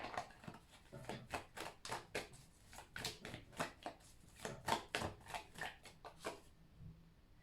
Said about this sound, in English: let me just shuffle a bit more